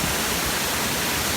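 Sekar Langit waterfall in Central Java, a dense steady roar of falling water with an even wash of noise and no variation, close and continuous.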